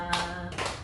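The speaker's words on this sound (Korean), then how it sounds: "여러분 박수로 우리 또 축복합니다" Church congregation clapping in blessing, two distinct short bursts of hand claps fairly close by, with a faint steady tone beneath.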